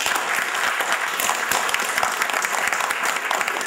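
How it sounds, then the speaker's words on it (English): A crowd claps warmly at a community event celebrating a United Way fundraising total, steady applause lasting a few seconds. "You deserve a hand of applause"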